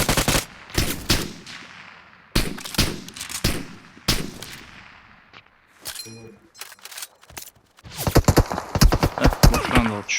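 Bursts of automatic rifle fire and single gunshots from the battle game PUBG, loud sharp volleys in clusters separated by short pauses, ending in a rapid dense string of shots.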